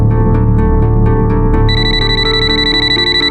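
Phone ringing loudly and close in a Bengali crime drama scene, a repeating electronic ringtone with rhythmic tone bursts that shifts to a steadier, higher ringing pattern, with no one talking over it.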